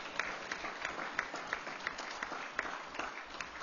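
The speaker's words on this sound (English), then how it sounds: "Give Don a quick round of applause" A round of applause from a modest crowd at a school district board meeting, steady clapping throughout with a few sharper individual claps standing out, fairly close and continuous.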